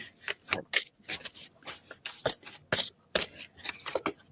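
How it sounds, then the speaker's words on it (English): A deck of playing cards shuffled close up in a run of quick riffling, rubbing bursts with short pauses between them, moderately loud, with no talking. "Card shuffling ASMR."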